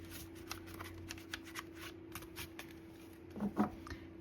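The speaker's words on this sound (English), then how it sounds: "let's give it one more little shuffle here" Tarot cards being shuffled by hand in a quiet room: a steady run of soft riffling flicks, close to the mic, ending in a couple of louder taps and slaps of the deck near the end.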